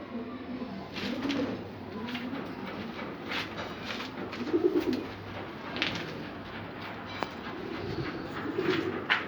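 Egyptian pigeons coo softly and repeatedly at close range, low throaty calls rising and falling over a steady background hum.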